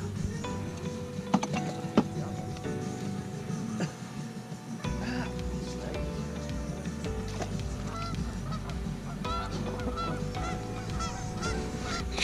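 Geese honk repeatedly at close range over a steady low engine-like rumble, with brief voices in the background.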